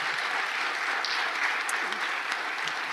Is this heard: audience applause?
yes